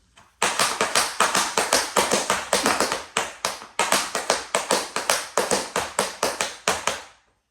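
Tap shoes strike a hard floor in quick flaps and ball changes, a brisk, even run of sharp, close taps in two phrases with a short pause between them, loud and alone with no talk.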